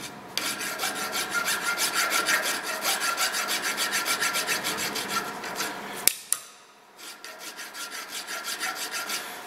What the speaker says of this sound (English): So we'll probably finish this one a little bit with a little bit of filing here.